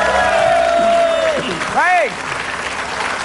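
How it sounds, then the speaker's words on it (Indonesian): Studio audience at an Indonesian TV game show applauding and cheering, a steady crowd wash mixed with a whooping shout, while a host speaks over it. "Tepuk tangan"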